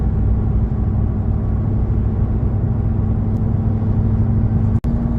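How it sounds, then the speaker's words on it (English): Steady loud engine drone from inside a black Ram TRX truck with a supercharged engine, a continuous low rumble and hum for the whole span with a single sharp click near the end. "here comes the supercharger"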